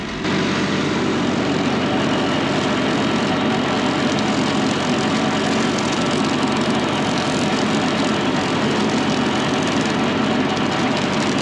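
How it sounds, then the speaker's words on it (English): A tractor engine drones steadily while mowing potato plants flat in a field before harvest digging, a loud continuous rumble with mechanical clatter throughout and no pauses. "So I'm starting out here today mowing the potatoes off"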